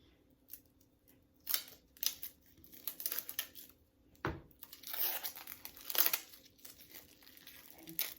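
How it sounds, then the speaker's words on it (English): A block of shea butter is cut into small pieces for melting soap, with intermittent crisp cutting and scraping strokes, some sharp and close, spread unevenly over several seconds without talk. "I'm just going to cut part of it, that aside, and then I'm going to cut it in little blocks to melt it."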